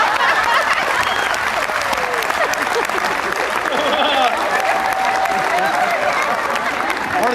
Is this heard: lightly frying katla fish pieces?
no